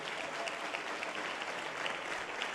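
A church congregation applauding, a dense, steady wash of many hands clapping at once, even in loudness throughout, with no voices standing out.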